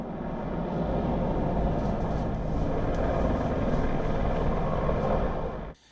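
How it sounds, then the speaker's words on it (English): Helicopters hover over the village of Garmisch during the G7 summit security operation, a steady, loud, continuous rotor drone that holds without a break and then cuts off abruptly at the end. "Hundreds of security personnel are out on the streets with helicopters hovering over."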